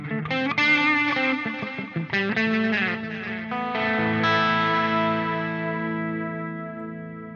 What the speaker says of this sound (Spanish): mismo delay, mismo seteo, pero le agregué la modulación